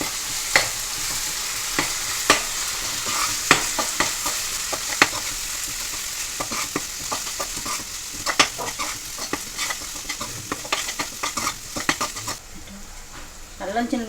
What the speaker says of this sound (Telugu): 2 స్పూన్లు అల్లం చిన్నులపాయ పేస్ట్ వేసుకొని పచ్చివాసన పోయేదాకా వేసుకోవాలి